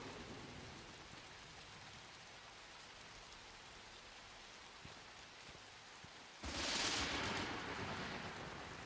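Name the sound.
rain and thunderstorm effect in video game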